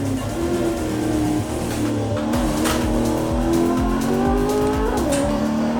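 A Koenigsegg CCX roars in a racing simulator, its engine droning loudly and steadily with shifting pitch and tire noise throughout, no voices.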